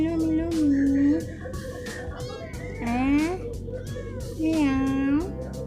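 A calico kitten meows close to the microphone, three drawn-out, clear meows spaced a couple of seconds apart over a quiet room background.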